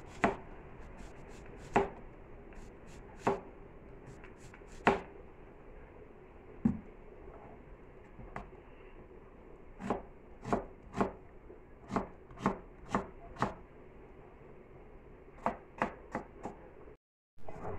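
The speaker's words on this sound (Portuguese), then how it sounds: "eu vou cortando o que eu vou usar. Vou começar aqui pela cebola." A knife chops onion on a cutting board in a home kitchen, a series of crisp, close taps, some spaced apart and others in quick runs, with no voices.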